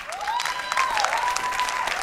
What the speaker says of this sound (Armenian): Եկեք եւս մեկ անգամ ծափահարենք նրանց